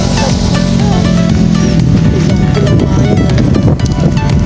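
Strong wind at a riverside fishing spot in Calumpit buffets the microphone with a loud, continuous low roar and rumble that masks all other sound.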